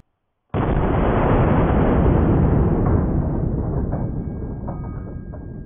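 A single 500 S&W Magnum revolver shot lands suddenly and very loud, then gives way to a long, slowly fading roar and rumble.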